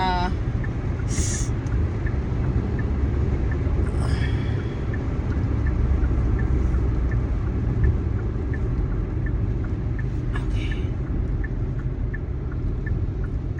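A car cruises along a highway at night, heard from inside as a steady, loud rumble of engine and road noise that continues without a break, with a voice present at times.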